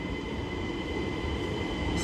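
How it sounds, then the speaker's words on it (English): A train ride leaving Brussels station, heard from inside the carriage as a continuous rumbling drone with a steady hum and faint wheel squeal. "I got on the train and enjoyed my ride to my friend's station"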